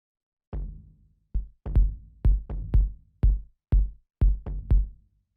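Kick bass built from a kick sample for organic micro house, a deep booming thump repeating in a syncopated groove, about a dozen hits over five seconds, each with a short decaying low tail, close and alone.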